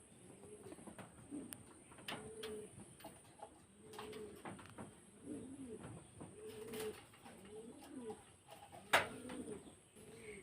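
Racing pigeons coo in repeated low throaty phrases at a moderate distance, with occasional bird chirps and a sharp brief sound near the end.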